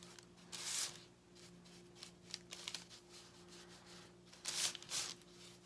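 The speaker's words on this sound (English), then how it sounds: "I'm really rubbing it over the applique here" A paintbrush rubs paint over a furniture applique in soft, dry scrubbing bursts, close and quiet, with louder brushing strokes near the start and end and gentle rustling between.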